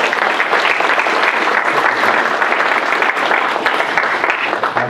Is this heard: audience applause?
yes